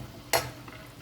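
Egg bajji, battered eggs frying in hot oil, sizzles softly as a utensil stirs and turns the pieces, one brief scraping clink over a steady low bubbling hiss.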